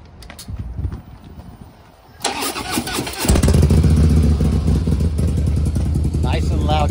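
A Harley-Davidson Low Rider ST motorcycle just back from its first service fires up: starter churn and clatter, then the engine catches into a loud, deep, rumbling idle close by, with some talk near the start.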